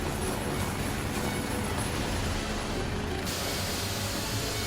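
Steady broadband rotor and engine roar from inside a moving medical helicopter during an emergency patient transfer, loud and constant with no voices.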